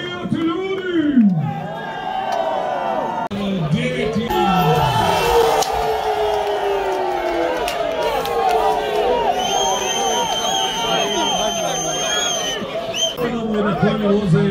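A crowd at a horse race cheering and shouting, with loud voices of people talking and calling out over a constant rumble of chatter.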